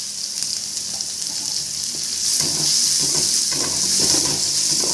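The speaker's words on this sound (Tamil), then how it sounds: "வெங்காயம் கொஞ்சம் நல்லா வதங்கிட்டேங்க, கலர் மாறிட்டோம். அதை கூட கொஞ்சமாக கருவேப்பிலை சேர்த்துங்க." Onions and curry leaves sauté in a pan for coconut rice, giving a steady close sizzle and frying crackle that grows a little louder halfway through, with faint stirring and no voices.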